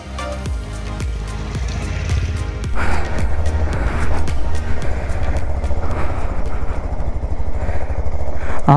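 A Bajaj Pulsar 220 motorcycle rides off-road through monsoon mud, its engine loud and close with a pulsing, throttle-varying drone that surges louder midway and stays strong to the end.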